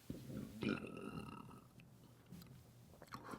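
A low, drawn-out burp rumbles close up, followed by faint mouth noises and quiet shuffling.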